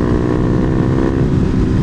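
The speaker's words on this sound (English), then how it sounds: "I'm pleasantly surprised by the sound out of this pipe" KTM Duke 390 motorcycle with an aftermarket exhaust pipe held around mid revs in fourth gear, giving a loud, continuous, raspy drone with wind buffeting, no talking.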